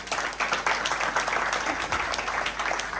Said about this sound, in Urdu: شاگردوں کے لیے زوردار تالیاں بجائیں